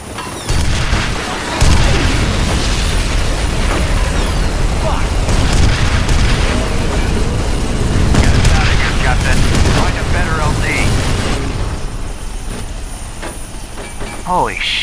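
Gunfire and explosions in the shooter F.E.A.R. Perseus Mandate: dense, loud, close rattling shots and deep booming blasts roar almost continuously for about eleven seconds, then ease to a lower rumble.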